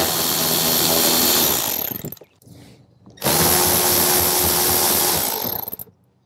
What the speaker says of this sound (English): There's gonna be three T25s facing to the front of the vehicle and one at the very top facing up.